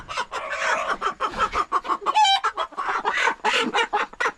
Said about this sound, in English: The rooster thought that was very funny.